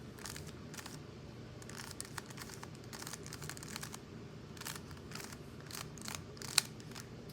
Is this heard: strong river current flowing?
no